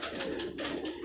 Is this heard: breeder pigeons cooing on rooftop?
yes